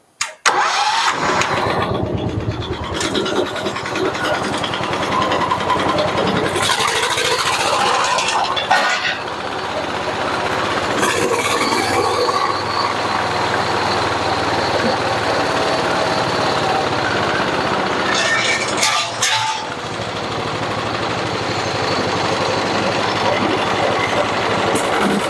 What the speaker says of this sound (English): getting this old tractor started